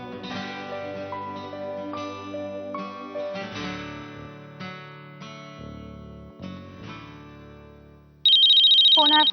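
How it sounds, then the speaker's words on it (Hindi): A phone ringtone plays a melodic electronic tune of repeating notes at moderate volume indoors, then shifts into a brighter, louder ringing pattern near the end. "फोन है।"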